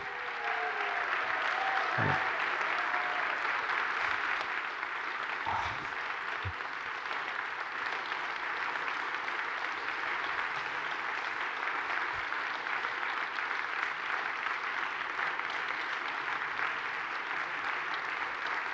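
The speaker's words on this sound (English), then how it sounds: "One more round of applause" A conference crowd gives a keynote speaker sustained applause, a broad, even roar of clapping that holds for many seconds with only slight swells and a few faint voices mixed in.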